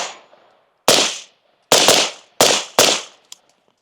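A rifle fitted with a flow-through suppressor fires four close, loud cracks at an outdoor range with steel targets, the last three in quicker succession, followed by a faint metallic click; no voices.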